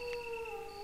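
A dog howls in the video game Resident Evil Director's Cut: a single sustained, wavering tonal howl, fairly quiet and heard alone.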